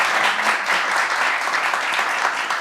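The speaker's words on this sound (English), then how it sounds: "Another round of applause for our panelists" A room full of people at a women-in-tech panel session claps steadily, a dense wash of applause that holds at the same level throughout.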